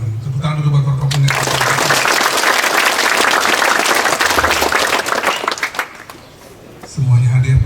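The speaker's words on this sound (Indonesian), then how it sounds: "Tepuk tangan dulu buat Forkopimda." Sustained applause from an audience at an official government ceremony in Kupang, NTT, attended by provincial and city leadership, rising after a brief spoken introduction and lasting about six seconds before speech over a microphone resumes.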